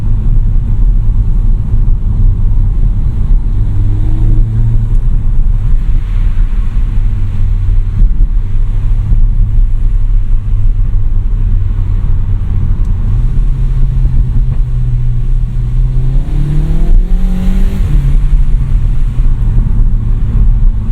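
A 2020 Cupra 290 with a DSG gearbox drives by day from inside the cabin, a steady low engine drone with road and wind rumble, the pitch stepping up as it accelerates through gears.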